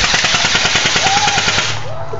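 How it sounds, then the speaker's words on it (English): Rapid bursts of airsoft gun fire, a fast automatic-style stream of close, loud shots that cuts off near the end, with a short vocal sound after. "we're about to murder Wiki with some airsoft guns"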